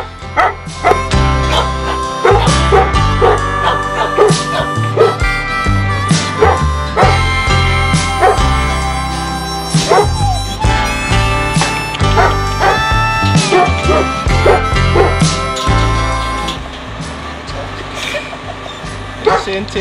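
A dog with mountain-dog features barks and yips among strays on Zante, the barks loud and close, with people talking throughout over a dense busy background.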